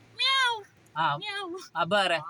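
A human voice imitates a cat, giving three drawn-out meows with short pauses between them, loud and close.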